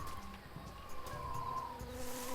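A steady, close insect buzz from the jungle ambience of the video game Tales of Monkey Island, droning continuously with faint wavering tones and no talking.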